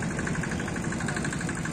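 A river boat's engine runs steadily at close range, a continuous mid-low drone with an even, rapid pulsing throb and no pauses.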